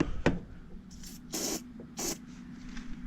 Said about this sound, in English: We're gonna spray a little bit in the cylinder too.